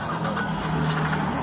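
Car engine idling steadily up close during a tense police stop, a continuous low mid-pitched hum with no voices during this brief moment.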